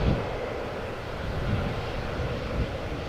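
KLM Embraer E190 jet lined up on the runway at Amsterdam Schiphol, its engines spooling up in a steady, broad roar that holds loud and even throughout with no talk.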